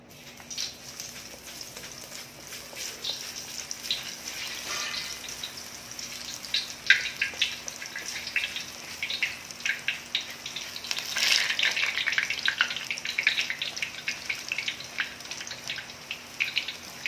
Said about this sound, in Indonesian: Ini minyak sudah panas. Sekarang jom kita saatnya mulai menggoreng.